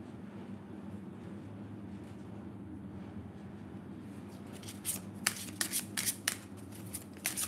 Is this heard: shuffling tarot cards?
yes